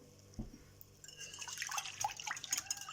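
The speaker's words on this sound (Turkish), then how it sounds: "1 su bardağı suyu ekliyorum." Water poured into a mixing bowl of egg and milk for crepe batter, a faint, close splash and trickle that begins after a soft knock and grows into bubbly dribbling sounds.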